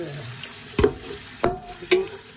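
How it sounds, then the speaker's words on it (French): Cold tap water running in a sink with a few sharp clatters as a metal pan is handled and rinsed, close by, without speech. "Je rince la casserole."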